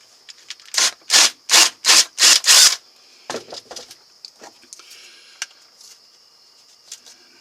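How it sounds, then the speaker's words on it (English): A drill reams a hole through metal in five quick, harsh, rasping strokes, then trails off into a few lighter scrapes and clicks. "Now I've just got to ream it."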